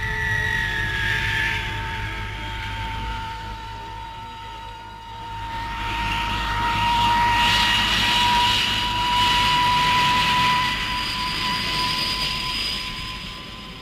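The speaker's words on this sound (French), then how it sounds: "Cet avion, très maniable, équipé d'un turboréacteur hispano type NIN, peut atteindre la vitesse de 960 km/h." A French jet fighter powered by a Hispano Nene turbojet flies past, its engine a sustained roaring whine with a high tonal whistle that shifts in pitch, swelling louder as it nears and easing off again.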